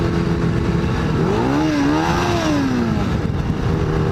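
A motorcycle engine revs up and falls back in one loud, close sweep, its rising and falling pitch standing out over a steady idle rumble.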